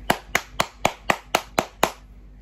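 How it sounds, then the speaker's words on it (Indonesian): Eight sharp hand claps in a steady, even rhythm, close and fairly loud, each a crisp isolated smack with brief quiet between. "Tepuk tangan dulu buat Wavy."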